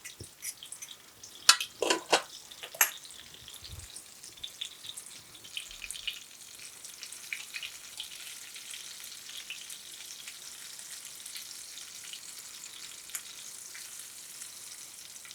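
Chicken fries in olive oil in a pan with a steady, crackling sizzle and scattered pops, plus a few louder clatters near the start, with no voices.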